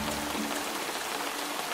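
Light rain falling steadily, a soft continuous hiss of drops with no voices, carrying on evenly for the short stretch.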